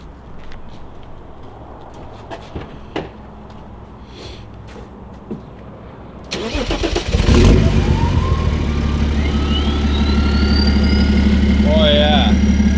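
A diesel BMW E90 sedan with a straight-pipe exhaust, downpipe only, is quiet until its engine suddenly starts, then rumbles loudly up close through revs as turbo whistle and whoosh rise over it.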